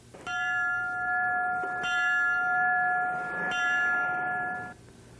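Three loud, clear strikes of a fire station bell ring out in farewell as a fire truck carrying a firefighter's coffin passes the station house, each strike ringing on and decaying before the next.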